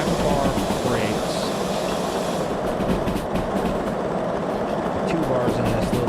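Steam locomotive in the Derail Valley train simulator game rolling along the rails at speed while the brakes are applied, a steady dense rumble with faint clickety-clack and hiss throughout.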